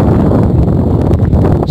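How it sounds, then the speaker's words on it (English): Loud, rumbling wind buffets the microphone continuously, a rough low roar with faint rustling and no voices. "Sorry about the wind noise."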